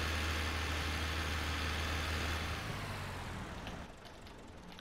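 A steady, loud diesel drone from a Massey Ferguson 135 or 240 tractor with a cab in the Farming Simulator 17 video game, running continuously and easing slightly quieter toward the end.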